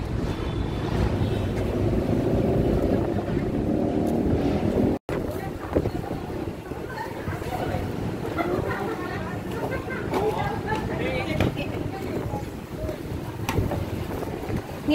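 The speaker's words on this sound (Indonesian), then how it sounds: "Ini anginnya gede ya." Strong wind buffets the microphone outdoors in Pontianak as a steady, loud rumbling roar, with a brief dropout and people talking over it.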